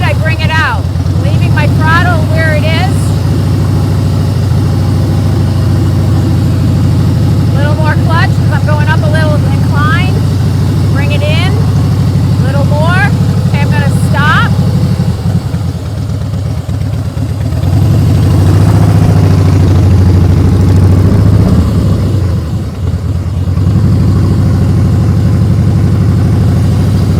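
BMW motorcycle engine runs smoothly through a slow, clutch-controlled practice ride with no braking, a steady low hum near idle that swells slightly partway through, while someone talks over it for much of the time.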